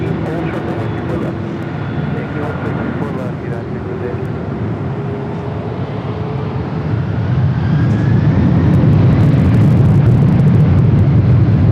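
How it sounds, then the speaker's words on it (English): An Atlas Air Boeing 777 freighter lands on runway 25 left at LAX, its engine rumble building to a louder, rushing roar partway through, with talking over it. "Embassy Air Cargo 777 freighter touching down 25 up left"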